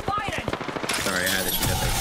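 Rapid bursts of gunfire in an Apex Legends match, a quick volley of shots packed into a couple of seconds with chatter mixed in.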